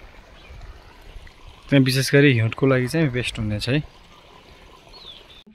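Water flowing from an HDPE polythene irrigation pipe at a plumbing site with flange and T-joints. It makes a steady, faint hiss that runs throughout, under a man's speech in the middle.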